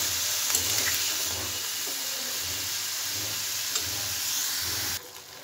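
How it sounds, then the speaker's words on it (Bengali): Cauliflower and capsicum fry in a pan with a steady, broad sizzling hiss and a low pulsing hum from the stove beneath, continuing evenly before dropping suddenly quieter near the end. "দেবো ফুলকপি। দেবো ক্যাপসিকাম। দিয়ে একটু ভেজে নেব।"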